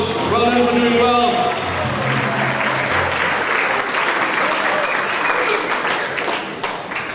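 Audience applause at a professional services awards ceremony, sustained loud clapping from a crowd with voices speaking over it at the start.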